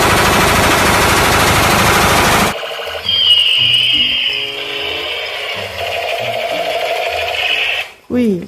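Rapid electronic gunfire from an Avengers action-figure toy rattles loudly at first, then gives way to beeping, warbling toy sound effects.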